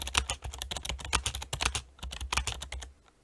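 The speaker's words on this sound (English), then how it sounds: "The microphone is pointing at the keyboard, so you get to hear what it sounds like while typing." Rapid typing on a Razer Ornata mecha-membrane keyboard, dense irregular clacks and taps close to the microphone, with a brief pause near the two-second mark before the keystrokes resume.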